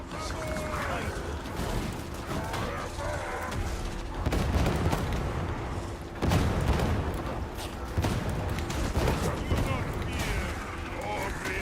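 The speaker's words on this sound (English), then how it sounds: "So this thing's gonna drop 9 grenades." Grenades burst repeatedly in an Ogryn-focused video game, a chaotic run of booms and gunfire-like cracks spread over several seconds, with swells of noise around the middle and a voice talking beneath.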